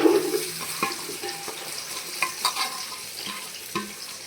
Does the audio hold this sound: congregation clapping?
no